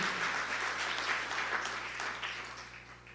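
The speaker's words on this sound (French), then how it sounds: "Je voudrais qu'on les applaudisse, José Milano et Charles Pépin." Audience applause at a closing conference for a French business university event, a dense wash of many hands clapping that stays steady and slowly fades over about three seconds.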